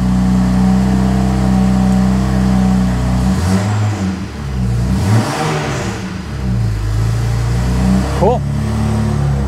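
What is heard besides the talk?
BMW N54 car engine starting and revving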